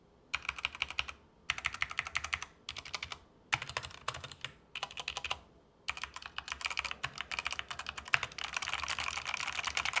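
Typing on a pre-lubed mechanical keyboard with good stabilizers and per-key RGB lighting: bursts of quick, clacky keystrokes separated by short pauses, close and clear, ending in a denser run of keys.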